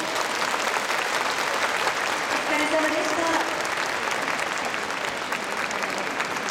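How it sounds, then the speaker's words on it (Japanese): Audience at a florist competition final gives the finalists a big round of applause, a steady wash of many hands clapping throughout, with a voice speaking briefly over it. "ファイナリストの皆様に今一度大きな拍手をお送りください"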